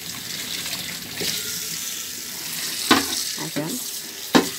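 Tap water runs steadily into a sink while dishes are washed, a close, continuous stream with a few sharp clinks and splashes, and someone briefly speaks over it.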